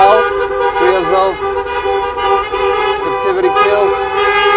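Car horns honk at a Free Azov street rally, a loud sustained toot blaring continuously with slight wavering, close and dense against the background of the crowd.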